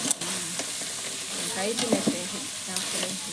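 Crab pieces fry in a hot pan with spice powder scattered over them and get stirred steadily, giving a continuous close sizzle broken by scraping stir strokes, with no talking.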